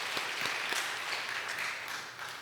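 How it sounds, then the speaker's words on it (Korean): Congregational applause fills a Sunday worship service at Onyang Methodist Church, a steady wash of many hands clapping at moderate loudness throughout with scattered sharper claps. "하나님 영광의 박수 드리겠습니다"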